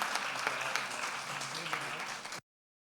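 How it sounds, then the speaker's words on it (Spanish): Applause from the audience at the inauguration of a convention anniversary event, a steady wash of clapping from a crowd lasting a couple of seconds before cutting off abruptly. "Un aplauso también para Margarida"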